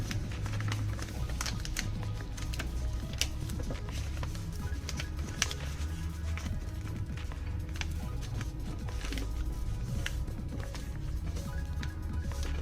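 Paper being folded by hand to make an origami claw: close, soft crinkles and sharp little taps and creases come in an irregular run, with no talking over them.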